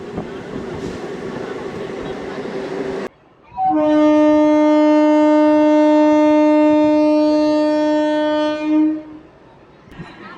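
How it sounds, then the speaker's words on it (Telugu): A DEMU train leaving Kalluru junction sounds a long, loud, steady horn of several seconds, preceded by engine rumble and followed by a brief cutoff, close and dominant. "కల్లూరు జంక్షన్ నుంచి మన ట్రైన్ బయలుదేరింది"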